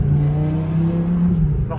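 A Lamborghini engine idles and revs just after being restarted following a flat battery, giving a steady, loud, close throaty hum with a slight rise near the end.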